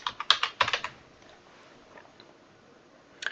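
Quick burst of clicks on a computer keyboard, a handful of close, crisp keystrokes in the first second, then near silence with one last faint tap at the end.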